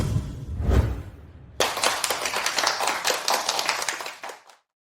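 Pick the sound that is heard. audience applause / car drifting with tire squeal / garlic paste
audience applause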